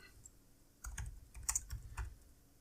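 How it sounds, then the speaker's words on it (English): Laptop keyboard typing in a quiet room: a short burst of several clicky keystrokes with uneven rhythm, close and moderately loud, with no voice. "Please forgive my typing."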